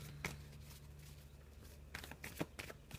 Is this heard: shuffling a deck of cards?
yes